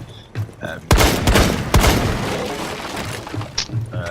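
Gunfire in Rainbow Six Siege as Glaz shoots a hole through a window: a couple of sharp, loud shots with a breaking crack, followed by ringing decay and smaller thuds.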